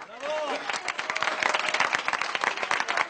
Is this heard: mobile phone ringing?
no